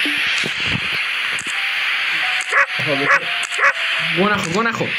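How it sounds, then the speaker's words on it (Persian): Dog barks and yips from the video game Endless Nightmare, several short harmonic bursts in quick succession toward the end, over a steady game background hum with a few clicks. "بزن این سگی خفش کن"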